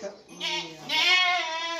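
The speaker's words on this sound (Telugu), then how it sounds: "దీంట్లో మూడు మేకలు ఉన్నాయి" Two wavering, nasal bleats from goats, close by, the second longer and louder.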